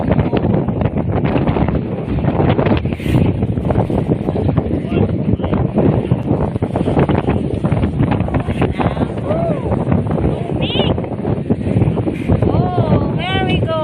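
Strong wind roaring over the open Indian Ocean at sea, a loud, constant buffeting gust noise against the microphone throughout, with faint bird-like chirps near the end.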